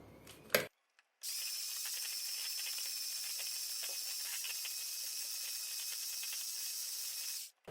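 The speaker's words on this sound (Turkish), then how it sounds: "Şöyle iki paket vanilya ekliyorum. Ve çırpmaya devam ediyorum." Eggs, sugar and vanilla are beaten for homemade ice cream, giving a steady, close, bright whirring whisk that runs for several seconds. It starts after a brief clatter and stops abruptly at the end.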